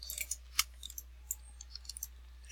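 Faint, irregular clicking of computer keyboard keys while playing Roblox, scattered light taps over a quiet PC hum.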